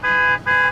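Two short honks from a vehicle horn, loud and close, separated by a brief gap. They come from a red truck at a city crosswalk behind a car that should be moving.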